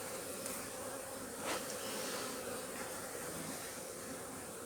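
A honeybee swarm at an apiary gives off a steady, dense buzzing hum that continues without a break and sounds close, with no voices.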